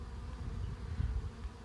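A honeybee swarm hums as a low, steady buzz of many wings, faint and continuous with slight swells in loudness and no talking.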